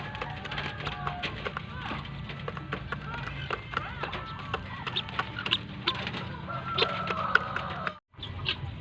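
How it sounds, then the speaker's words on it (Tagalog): Laying hens cluck and chatter nearby in a backyard flock, soft, irregular clucks over a busy background, with a person talking throughout. "ito yung dalawang inahin nating nangingitlog"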